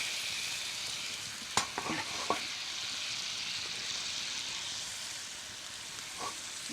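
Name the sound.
steaks sizzling while cooking over a campfire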